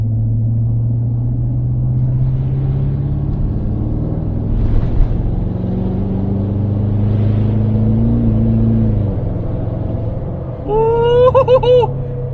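A Ford F250 with a 6.7 Powerstroke diesel and big non-VGT turbo rolls onto the throttle, its deep engine drone building steadily up close; a brief high whistling rises near the end.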